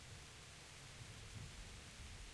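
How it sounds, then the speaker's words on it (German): Steady, dense rain with a low rumble of thunder in a nighttime forest scene from the video game Kingdom Come: Deliverance, forming an even wash of noise throughout. "Mit Regen und Donner."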